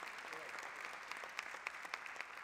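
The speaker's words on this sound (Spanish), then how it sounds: "Agliberto, recibe el aplauso de la gente que te quiere, que te admira y te reconoce." Audience applause at the opening ceremony of a festival, a steady wash of clapping from a crowd, fairly distant and soft, continuing evenly with a few sharper claps standing out.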